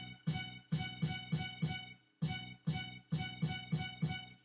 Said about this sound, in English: In pattern 7 we get a nice West Coast sound.